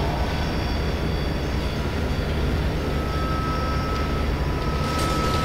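A tram in the video game F.E.A.R. 2 rolls along with a loud, constant rumbling roar and rattle that holds steady throughout, no voices over it.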